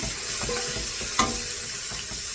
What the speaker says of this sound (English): I'm just sauteing those